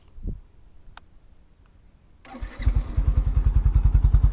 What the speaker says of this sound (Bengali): তাহলে চলুন আমরা একটু বাইকটা স্টার্ট করে দেখি।